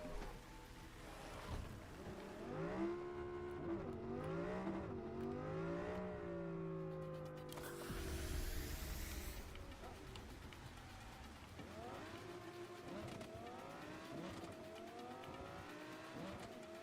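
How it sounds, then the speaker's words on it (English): A car engine in the Cyberpunk video game drones and revs continuously, its pitch rising and falling as it accelerates and shifts, with a brief burst of hiss partway through and game music or ambience underneath. "I like the sound of this car."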